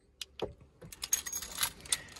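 A BMW key fob for a Keyless Go car jingles and clacks in the hand, a few sharp jangles followed by a quick cluster of close metallic taps and rattles, heard alone.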